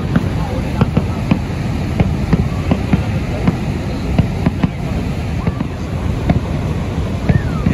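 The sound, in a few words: fireworks at Niagara Falls at night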